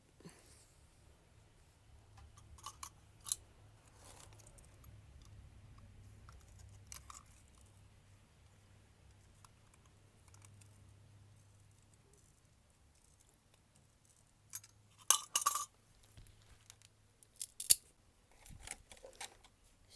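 Scissors snip through plastic for a homemade fly trap. The cuts come as a few faint, sparse clicks over a quiet low hum, followed by a sharper cluster of snips near the end.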